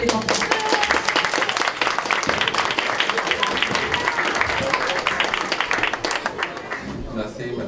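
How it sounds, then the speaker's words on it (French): Children at a town event in Les Ulis applauding together: dense, steady clapping that holds loud and close for about eight seconds, with a little voice mixed faintly beneath. "On applaudit s'il vous plaît les enfants."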